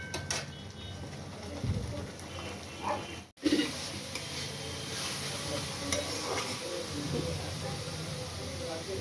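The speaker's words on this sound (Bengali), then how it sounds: "এবারে কি মশলাটি ভাজা ভাজা হোক।" Spice paste with salt and chopped tomato frying in a pan for a potato and pointed gourd fish curry, a steady low sizzle with occasional stirring scrapes and one brief clunk, with no talk.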